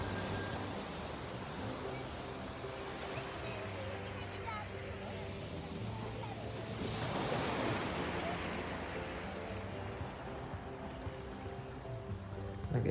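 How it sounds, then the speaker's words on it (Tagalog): Continuous rushing of ocean waves, a broad steady wash that swells midway, with faint low background hum and no voices. "gusto ko lang pakinggan yung alon"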